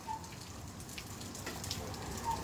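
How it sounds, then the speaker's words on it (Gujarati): Rain falls with wind in Halvad, a soft, steady hiss of drops that stays fairly faint and even throughout, with no voices. "પવન સાથે જોરદાર વરસાદ છે"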